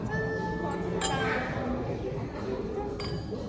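Glasses clink together twice in a toast at a resort meal in Phu Quoc, two sharp bright taps over a busy background of chatter and room noise.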